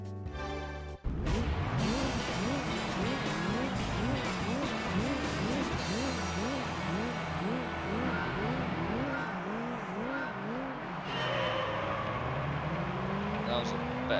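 A grid of race cars, including an LMP prototype, launches off the start line in Gran Turismo 3. The engines rev hard and shift up through the gears in overlapping rising whines, loud and continuous, with a voice faintly under them.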